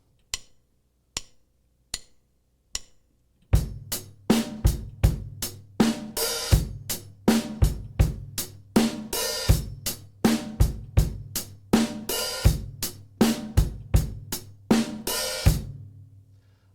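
A few sparse hits lead into a steady rock drum groove with kick, snare and an open hi-hat splashing on the offbeat, ending with a crash.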